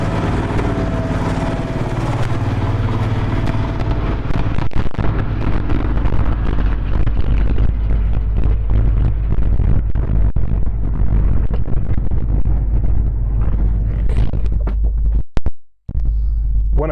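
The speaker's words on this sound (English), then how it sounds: "Tractor, Jeep, Mustang, Escort, Blazer, all fired up and running." Old cars, a Jeep, Mustang, Escort and Blazer, idling with a tractor after a cold start, a loud steady low rumble of several engines running together, close and continuous, cut off abruptly near the end.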